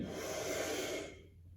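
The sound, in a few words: deep exhale during a stretching exercise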